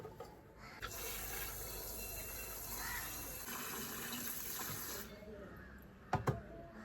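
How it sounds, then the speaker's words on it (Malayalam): Cut eggplant pieces go into water in a home kitchen, with a steady stream of running water nearby, followed by a couple of brief, sharp splashes near the end. "ഇനിയിപ്പോൾ ഇത് നന്നായിട്ടൊക്കെ കട്ട് ചെയ്ത് മാറ്റിയിട്ട് ഞാൻ വെള്ളത്തിലിട്ട് വെക്കും."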